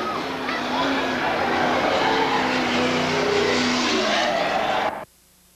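Race cars roar steadily around the track at Seekonk Speedway during weekly racing, a Firebird among them, a loud continuous engine drone with commentary talking over it before it cuts off abruptly.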